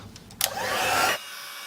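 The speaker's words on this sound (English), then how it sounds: "I'm going to heat that with the heat tool" A heat tool blasts hot air over an ink-stamped hummingbird card for about three-quarters of a second: a steady, close, loud whoosh that starts abruptly and cuts off cleanly, with faint quiet before and after.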